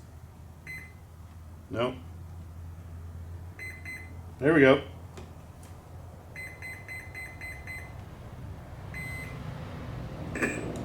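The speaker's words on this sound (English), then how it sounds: "wait for the beeps." An RC plane's electronic speed controller gives short series of high calibration beeps during assembly of an FMS Integral 80mm EDF jet, spaced across the stretch with brief speech in between.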